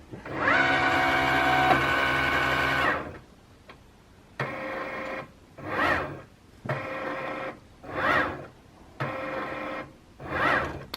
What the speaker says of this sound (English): So I'm going to go ahead and press the Cricut logo. It's going to feed it.